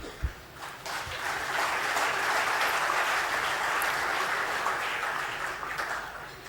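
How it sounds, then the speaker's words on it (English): An audience at an evening awards show breaks into sustained applause, a dense, even wash of clapping from many hands lasting several seconds before slowly tapering. "Ladies and gentlemen, please give each of them a grand applause."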